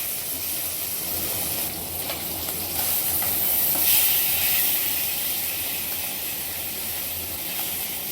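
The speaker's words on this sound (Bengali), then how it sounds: "মাছটা উল্টে পাল্টে লাল করে ভেজে নেব।" Stinging catfish fries in oil in a pan, covered with a plate, giving a steady loud hiss and sizzle that swells slightly in the middle, close by and without speech.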